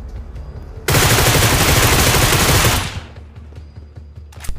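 Groza assault rifle firing in a mobile battle royale game: a loud, dense burst of rapid automatic gunfire for about two seconds, then a fading tail and low background rumble.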